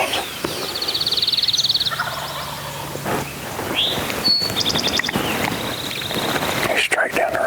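Wild spring gobbler in Canada calling from a stretch of hardwood down a road, its rattling gobbles ringing out clearly at a moderate distance over light wind, repeated a few times across the stretch.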